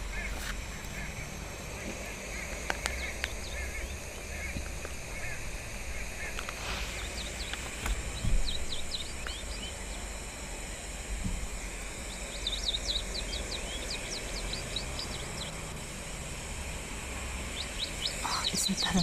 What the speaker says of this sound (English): see if we can hear the vocalizations of this little wagtail